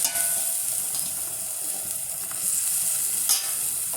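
Fish curry bubbles vigorously in a pan as more ingredients go in, giving a close, steady hiss and sizzle with a few small knocks and no speech.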